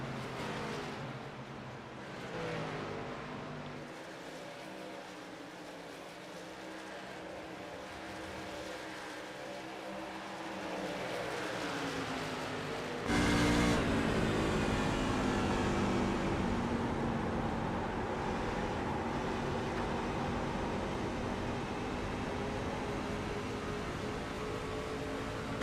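Race car engines at Nashville Superspeedway in a sim racing game, Po-Man Motorsports cars howling with sweeping pitch changes as they rise and fall, growing louder partway through and then holding a sustained, close-up roar.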